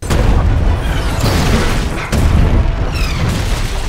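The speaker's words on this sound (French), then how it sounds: "Les explosions font très CGI." Big cinematic CGI explosions from the action film Expendables 3, loud booming blasts with dense rumbling debris, one swelling blast giving way to a second sharp burst about halfway through, no talking.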